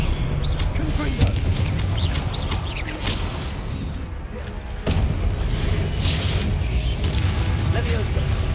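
Confringo spell blasts in the Hogwarts Legacy video game, heavy booming impacts over a loud, dense battle din, with voices shouting over the action.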